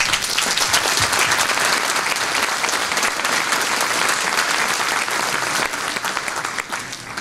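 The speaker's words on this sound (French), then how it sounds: "Et je pense qu'on peut les applaudir." An audience applauds at a mayor's New Year address, with dense, steady clapping that fills the whole stretch and eases off slightly at the end.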